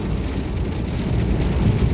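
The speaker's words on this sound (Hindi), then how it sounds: "यहाँ पे बारिश हो रही है।" Rain falls steadily during a road trip in Tamil Nadu, a dense, constant low rushing wash with no distinct drops, loud and close, with no voices.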